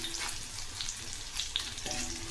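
Onion frying in hot oil for a Marathi-style urad dal amti, a steady close sizzle with light crackles and a few brief pops, no one talking.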